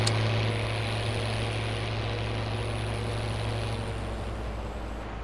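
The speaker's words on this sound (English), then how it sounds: "Loud tractor. Man, that's a beautiful sound." A loud tractor engine drones on a farm with a constant low rumble, heavy at first and then easing slightly as it continues alone.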